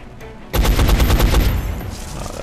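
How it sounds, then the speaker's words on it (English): Burst of automatic gunfire in the XCOM: Enemy Unknown video game, a loud rapid string of about eight shots lasting about a second, followed by a fading tail. "Let's shoot him more."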